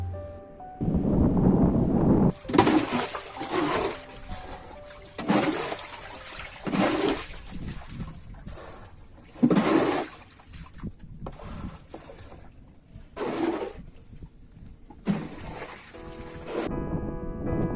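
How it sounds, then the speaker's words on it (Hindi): Water being scooped and bailed out by hand from a small fishing boat, heard as a series of irregular splashing, sloshing bursts close by, with no talk over it. "ये सब पानी को इस छोटे से नाव पे तो हाथों से निकाल रहा है"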